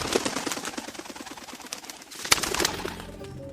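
Soft pigeon coos and bird calls over a busy, noisy background, with a sharp clatter near the end.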